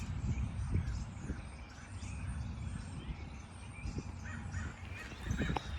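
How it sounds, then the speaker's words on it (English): Birds calling outdoors among trees, with crow-like caws standing out over a dense, steady wash of outdoor noise; the calls are moderately loud and scattered through the stretch. "Look at the leaves and the flowers. And listen to the birds."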